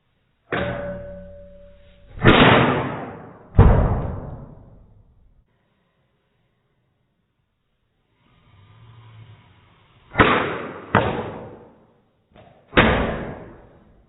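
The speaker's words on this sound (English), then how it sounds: "hitting the ice first and following through with the puck, shooting on net." A hockey stick strikes the ice and fires a puck at the net, giving several loud, sharp cracks that are each followed by a ringing decay, with a pause and a softer scrape in between.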